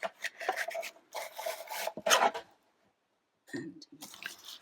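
Card paper being trimmed for a craft project, a close dry rasping and rubbing of blade on card in short irregular strokes, with a brief gap of silence before more scraping resumes.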